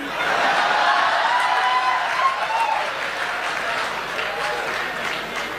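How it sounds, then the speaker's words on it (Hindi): An audience at a Hindi comic poetry recital claps together in a steady, dense round of applause that stays fairly loud, then eases slightly toward the end. "और ये जो ताली बजा रहे हैं इनसे तो जरूर ही कहती है"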